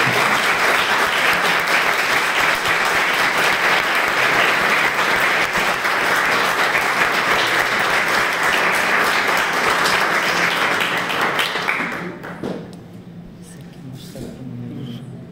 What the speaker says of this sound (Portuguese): eu peço que vocês aplaudam o trabalho diário